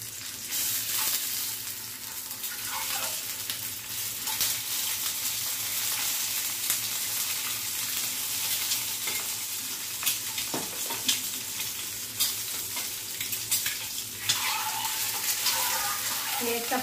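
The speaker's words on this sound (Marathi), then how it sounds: "त्यामध्ये ही पहिले एग फ्राय करून घेऊ।" Eggs frying in hot oil in a pan, a steady close sizzle and crackle running throughout with small pops and brief stirring or scraping noises.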